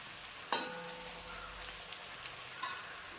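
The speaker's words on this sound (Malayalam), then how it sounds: "ഇനി നമുക്കിത് തുറന്ന് വെച്ച് തന്നെ ഒന്ന് വഴറ്റി വേവിച്ചെടുക്കാം" Chicken pieces sauté in oil in an open pan, giving a soft, even sizzle that stays faint and continuous, with one sharp clatter near the start and a few light utensil taps afterward.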